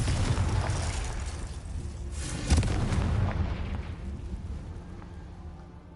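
A booming explosive fire spell, Confringo, blasts in Hogwarts Legacy, a loud sustained rumbling burst with a sharp peak midway that gradually rolls off and fades, with no talking over it.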